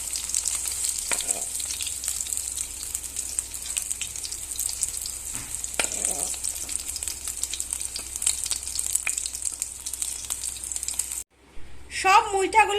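Chital fish muitha dumplings crackle and hiss in hot oil at close range, with occasional knocks from stirring, until the sizzle stops abruptly near the end and a voice begins speaking.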